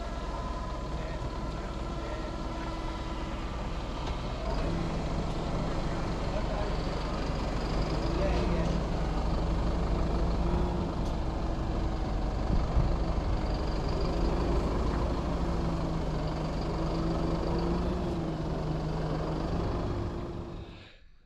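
A delivery truck carrying a water tank rumbles and idles on wet grass, its engine note steady and fairly loud for about twenty seconds, with slight rises and falls in revs before fading at the end.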